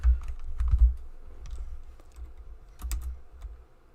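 Keys clatter on a computer keyboard in short, quiet bursts of typing with irregular pauses, close to the microphone and with no talking.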